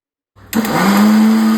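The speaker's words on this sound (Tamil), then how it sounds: "நல்லா ஃபைன் பேஸ்ட்டா நம்ம அத அரைச்சு எடுத்துக்கலாம்ப்பா" A mixer grinder whirs up to a loud, steady blending roar after a short motor start, grinding onion, tomato and green chillies into a fine paste, running continuously with a high whine.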